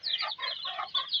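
A local desi hen clucks close by in a short run of four or five quick, bright clucks.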